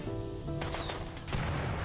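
Gunfire in the Rimworld video game, a few sharp game gunshots with crashing impacts over a steady background hum, one louder blast near the end.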